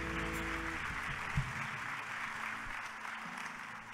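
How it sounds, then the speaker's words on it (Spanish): Church congregation clapping during a worship service, a soft, fairly distant wash of applause over a low background hum, with one brief louder thump midway. "Dale ese aplauso bien fuerte."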